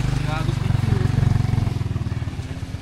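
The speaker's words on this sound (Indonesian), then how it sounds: "Motor terseram dalam hidup gua." A motorcycle engine runs with a low, pulsing throb that thumps rhythmically beneath people talking and fades toward the end.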